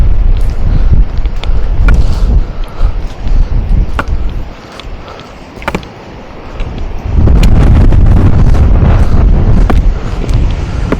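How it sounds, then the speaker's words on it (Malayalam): Strong wind roars and buffets the microphone in loud, continuous gusts on a mountain trail between Athirumala base camp and Pongalappara, Agasthyarkoodam, easing briefly in the middle before surging again. "കനത്ത കാറ്റാണ് ഇവിടെ"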